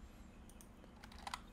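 Keys on a computer keyboard clatter softly while a form is being filled in, a few scattered taps building to a couple of sharper clicks near the end, faint and close with no talking.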